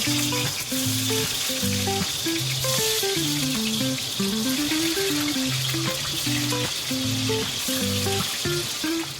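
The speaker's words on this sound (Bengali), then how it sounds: "তেলটা গরম করে আলুগুলো দিয়ে দেবো, তারপর ভেজে নেব" Potatoes sizzle and crackle steadily in hot oil, a constant loud frying hiss under a light melodic music track.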